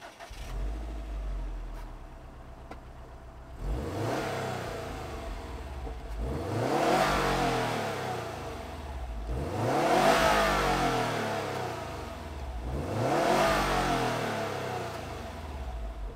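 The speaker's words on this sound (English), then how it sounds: "let's fire up my Type RA and hear what it sounds like." A 2018 Subaru WRX STI Type RA with a reprogrammed ECU cranks and fires up, settles briefly, then is revved three times in slow swells that rise and fall, close and steady with no talking.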